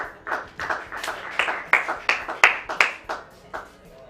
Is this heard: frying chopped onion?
no